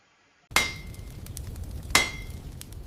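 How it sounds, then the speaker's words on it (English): A heavy hammer strikes an anvil in a shed, sounding two sharp, ringing metallic blows about a second and a half apart, each with a bright lingering tone, close and loud against quiet. "The rhythmic strike of his heavy hammer against the anvil echoed through the shed."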